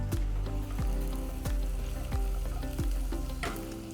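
Onions and garlic frying in a pan: a steady, close sizzle with regular scraping clatters from stirring, no voices.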